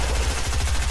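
Rapid automatic gunfire in Fortnite, a fast regular burst of low thudding shots filling the whole second, loud and close.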